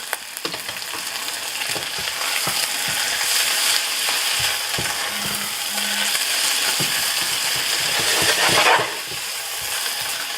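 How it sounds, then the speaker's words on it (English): Bacon sizzles loudly and continuously in a frying pan up close, with scattered crackles and pops and a brief surge just before the end, no speech. "let it cool down while we wait for our bacon to cook"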